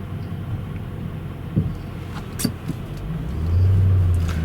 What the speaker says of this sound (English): a suggestion of a V8 rumble from under the hood